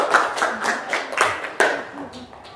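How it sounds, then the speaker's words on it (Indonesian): A classroom group claps for a couple of seconds, scattered hands striking unevenly close by, fading slightly toward the end. "Beri tepuk tangan sekali lagi buat kelompoknya Neha."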